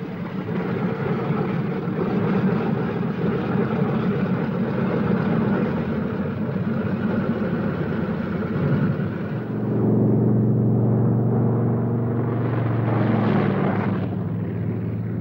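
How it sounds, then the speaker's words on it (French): Heavy four-engine B-17 Flying Fortress bombers, converted into ground-controlled drones, take off with a steady, loud droning roar of piston engines and propellers that swells again near the end, with no voices. "Des B-17 transformés en drones, profondément modifiés et télécommandés à partir du sol décollent"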